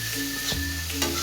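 Onions with a pinch of salt fry loudly in a pan, a dense steady sizzle with a couple of stirring scrapes, close and alone.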